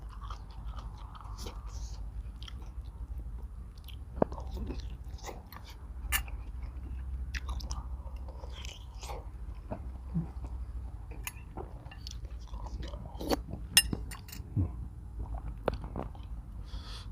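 Crunchy chewing of cow trotters eaten with tom yum and fresh vegetables, close-up bites and crisp cracks scattered irregularly over steady mouth noise, with no talking.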